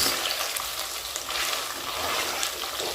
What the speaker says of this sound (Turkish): Etimiz kavruldu arkadaşlar.